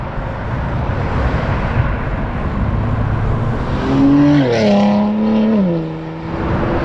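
Busy road traffic along California's Central Coast, with a steady roar of passing cars close by and one vehicle's engine rising and shifting in pitch as it goes past, loud and continuous.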